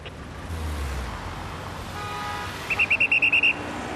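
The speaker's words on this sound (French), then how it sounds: "Pour maîtriser les choses, un seul instrument de travail indispensable, le sifflet." A traffic officer's whistle on a Paris street gives a rapid run of about eight short, sharp, evenly spaced blasts over steady background traffic noise, with a fainter tone just before.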